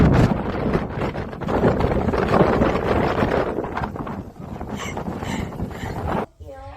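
Strong gusty wind buffets the microphone outdoors on a trip, a loud broadband roar that swells and eases throughout, with a brief drop near the end.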